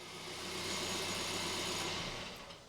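A 2012 Kia Picanto 1.2 petrol engine idling just after an oil and filter change, a smooth steady hum with a faint even tick, heard close and alone before it trails off slightly at the end.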